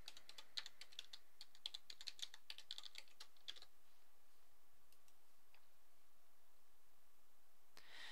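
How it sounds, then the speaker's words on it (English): Typing a password on a computer keyboard: a quick run of soft, close key clicks for a few seconds, then quiet with a last isolated click near the end. "log in to Google by typing your Gmail password and clicking on the Sign In button"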